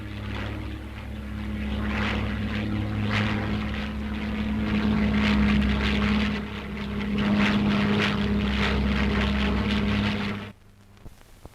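A Supermarine Spitfire Mk VII with pointed wingtips flies past, its propeller engine droning steadily with a strong low hum that swells and dips for about ten seconds before cutting off abruptly.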